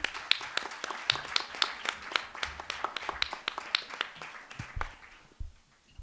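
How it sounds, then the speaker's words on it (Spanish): Audience at an international poetry colloquium breaks into lively applause, dense overlapping claps with some sharp individual hits, fading out near the end. No talk is heard. "Ahora ya sí le podemos aplaudir"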